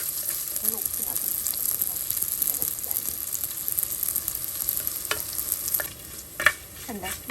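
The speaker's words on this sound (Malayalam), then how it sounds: "നമുക്കിനിയിപ്പം ഉള്ളിയും പച്ചമുളക് കറി ലീഫൊക്കെ അതിനകത്ത് ഇട്ടൊന്ന് വഴറ്റിയെടുക്കാം." Onion, green chili and curry leaves sauté in hot oil, a steady soft sizzle with occasional stirring scrapes and clinks of a spoon against the pan, close and continuous throughout.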